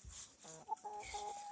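Hens cluck softly inside their coop at an off-grid cabin, a few short low clucks and murmurs, fairly quiet and close.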